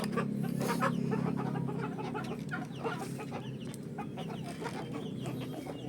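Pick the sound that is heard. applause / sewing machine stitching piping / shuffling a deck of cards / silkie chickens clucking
silkie chickens clucking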